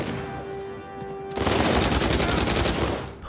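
Gunfire in the video game Uncharted 4 erupts as a fast, loud automatic burst lasting under two seconds before it cuts off.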